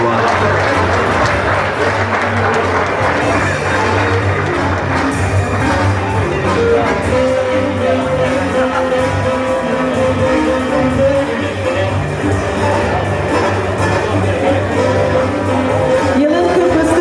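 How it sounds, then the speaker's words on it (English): At an awards gala dinner, the audience applauds as an award-winning company's founder and CEO comes to the stage, sustained dense clapping over a loud hall with music and crowd noise beneath. "Round of applause, everyone."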